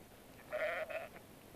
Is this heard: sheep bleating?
yes